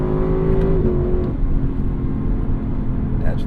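Naturally aspirated V8 of a Lexus LC 500 convertible pulling hard under acceleration, a loud low engine roar from inside the cabin with a gear change partway through, steady and close.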